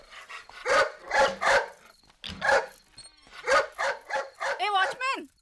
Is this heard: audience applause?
no